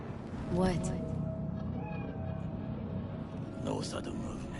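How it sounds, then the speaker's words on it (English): A cat meows in the video game Cyberpunk 2077, two clear meows spaced a few seconds apart over low city rumble, with quieter background voices. "Do you see it? That cat? Fine-looking feline."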